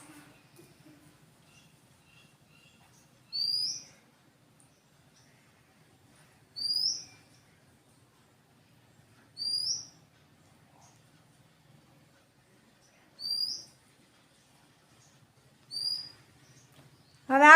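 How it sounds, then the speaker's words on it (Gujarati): Short sparrow chirps sound about every three seconds in a very quiet room, five or six clear bursts with silence between them. "તમને કેનો અવાજ સંભળાણો? ચકલીનો."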